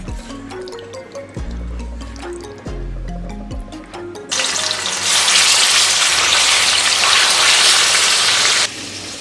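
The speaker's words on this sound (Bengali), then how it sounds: "এবারে আমি একটা একটা করে চিকেন আমি তেলের মধ্যে দিয়ে দেবো।" Marinated chicken pieces dropped one by one into hot ghee and oil, giving a sudden loud, steady broadband sizzle that swells midway and holds, after a few low thuds and clunks of handling.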